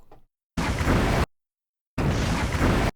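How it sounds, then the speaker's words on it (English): Two loud fiery whooshing bursts from an anime fire explosion effect in Jujutsu Kaisen, each lasting under a second with a gap of silence between them, broadband and roaring. "Can I point out the fire sound? This is the fire sound."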